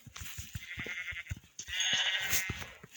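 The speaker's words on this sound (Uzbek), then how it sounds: "O kechga qo'ylar podavili o'tibdi-ku." Sheep bleating on a farm, several loud bleats rising over a busy animal-pen background, with the strongest calls in the second half.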